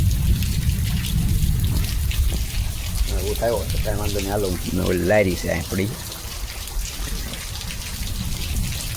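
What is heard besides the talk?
rain falling outdoors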